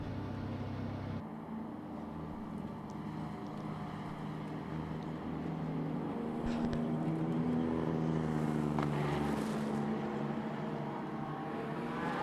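GT race cars circulate at Okayama circuit during a Japan Cup race, heard as a continuous distant engine drone that swells gradually, with wind-like rushing and no clear individual pass-bys.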